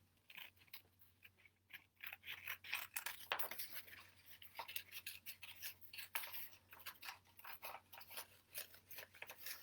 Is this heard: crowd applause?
no